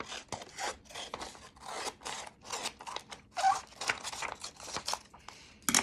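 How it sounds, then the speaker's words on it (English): Scissors snip repeatedly through sheet music paper, each cut a crisp close rasp followed by light paper crinkling, in an uneven rhythm with no talk. "Cut out the next line of music and the line above it and the chords."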